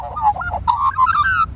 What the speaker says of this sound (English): Wow, and we've got another magpie.